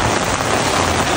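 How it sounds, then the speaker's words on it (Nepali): A brief burst of heavy rain, a dense, even wash of noise at steady loudness with no speech. "डेन्जर पानी पर्दा है"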